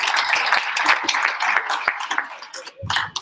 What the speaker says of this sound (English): Can you give them a round of applause again